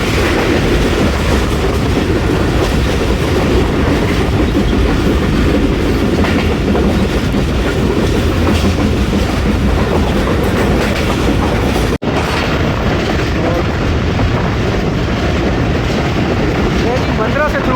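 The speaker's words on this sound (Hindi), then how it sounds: "कल्याम ऐवान पास कर रही है ट्रेन हमारी" The Jaffar Express train in Pakistan rumbles loudly and continuously along the tracks while passing a station, with a dense rattling roar throughout and a brief break near the end.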